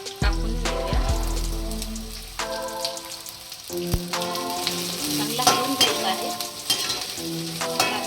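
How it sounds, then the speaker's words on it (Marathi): Spring onion dropped into a hot pan for paneer chilli crackles in a steady sizzle with stirring, while tuneful background music plays over the frying. "ह्या पातीचा कांदा कापून ठेवला होता थोडासा तो टाकून घेऊया"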